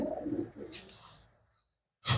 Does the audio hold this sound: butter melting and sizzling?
no